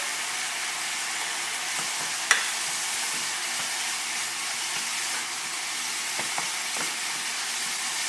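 Ground beef browns in a pan with a steady, bright sizzle that holds evenly throughout, broken by a couple of faint scrapes or taps of a utensil.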